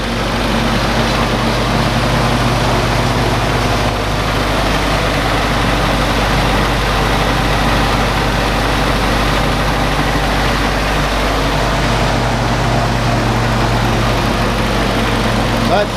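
An old Willys CJ2a with its L134 four-cylinder engine idles steadily, a loud continuous low rumble with valve tapping in it, while a person talks over it.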